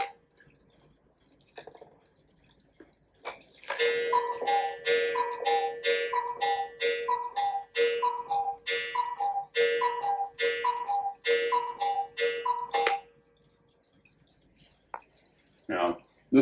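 A carved cuckoo clock with an 8-day movement ticks in a quiet shop, a steady run of sharp, close ticks at an even rhythm. Before and after, the room is near-silent, with a brief extra clack at the end.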